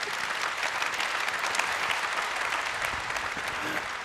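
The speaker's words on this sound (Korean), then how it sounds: "여러분 다시 한번 큰 박수 보내주시기 바랍니다" Steady applause from a seated audience at a forum after an author's lecture, dense and even throughout with no talk over it.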